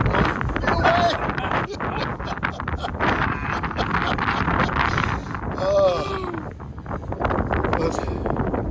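Wind gusts buffet the microphone on an Appalachian mountain top, a loud rough roar that surges and eases, with a person speaking over it.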